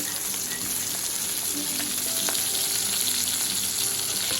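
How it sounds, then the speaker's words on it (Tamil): Fish fries in hot oil in a pan for coconut milk fish curry, a dense, continuous close sizzle with faint scraping as pieces are turned, with no talking. "ஒரு பக்கம் வறுத்துட்டோம். அடுத்த சைடை திருப்பி போட்டுக்கலாம்."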